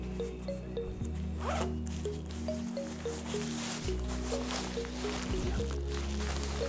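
A raincoat's zipper is pulled open in short repeated strokes, crisp close ratcheting zips with brief pauses between them, for packing the coat into its own pocket.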